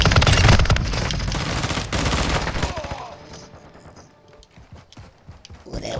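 Video game gunfire in a zombie shooter: dense, rapid overlapping bursts of shots for about two seconds, then thinner scattered shots fading away before a final blast at the end.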